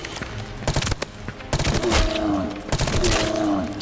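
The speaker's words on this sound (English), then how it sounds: "full auto pistol" A full-auto pistol in the video game Pioner fires in rapid bursts, sharp cracks packed into fast volleys with brief gaps between them. The shots ring out loud and close.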